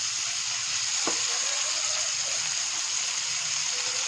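Small fish frying in a pan with masala, a steady close hiss and sizzle with one sharp spatter near the start, with no talk.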